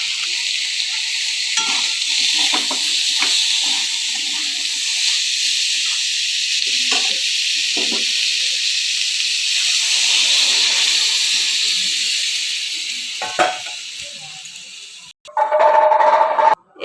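Water goes into a hot pan of Bengali fish curry masala, giving a sustained loud hiss and sizzle with faint stirring clicks, then a brief louder burst near the end.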